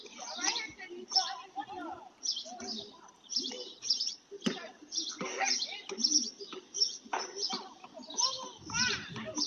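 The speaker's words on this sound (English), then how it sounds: "A good day, birds chirping." Birds chirp in short bursts behind children's voices and chatter, the calls frequent but partly buried under the talk.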